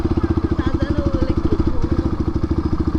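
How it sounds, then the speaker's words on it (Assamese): A motorcycle idles close by with a steady, rapid thumping pulse that holds evenly throughout, a faint murmur of background sound beneath it. "এতিয়া আমি বাইকখন ইয়াতে অলপ পাৰ্ক কৰি থৈ দিওঁ"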